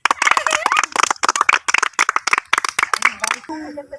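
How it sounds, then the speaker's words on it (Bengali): An audience at a children's gathering claps hands in a fairly quick, uneven run of sharp claps with voices mixed in, ending in a short tonal sound. "তোমরা সবাই একটা হাততালি দাও"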